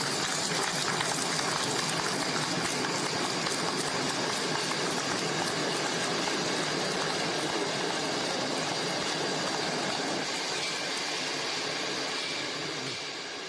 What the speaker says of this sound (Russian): движение с пассажирами на новом участке Троицкой линии Московского метрополитена от станции ЗИЛ до станции Новаторская запущено